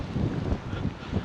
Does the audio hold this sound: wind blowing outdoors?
yes